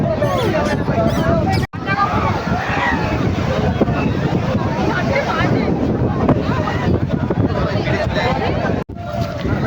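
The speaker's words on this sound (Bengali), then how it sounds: "দারুণ হাওয়া দিচ্ছে সমুদ্রের ধারে" Strong seaside wind buffets the microphone on a beach at Digha, a loud continuous roar with gusting rumble, and a babble of people talking runs beneath it.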